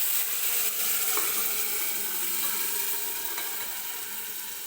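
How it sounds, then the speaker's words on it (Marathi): Cooked mutton for a spicy mutton rassa poured into a hot pot, setting off a loud, continuous sizzle and frying hiss that eases slightly toward the end, with no voices. "जे मटण शिजवून घेतलं होतं ते मी ओतून घेते या पातेल्यामध्ये"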